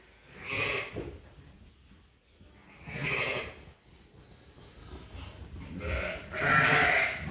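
Ewes and their lambs bleat on a farm during lambing, loading into a trailer; three separate bursts of bleating, moderately close, with quiet gaps between.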